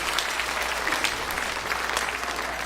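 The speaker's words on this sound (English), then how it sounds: "Go ahead, the hand clap started over here." Church audience clapping in a dense, sustained round of applause, crisp individual claps overlapping at close range with no talking.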